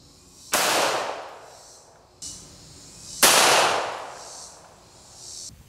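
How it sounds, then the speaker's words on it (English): A 1911 pistol firing .45 ACP rounds into a book: two loud, close gunshots about three seconds apart, each a sharp crack followed by a rolling echo, with no talking. "We're going to start out with 45 ACP out of our 1911"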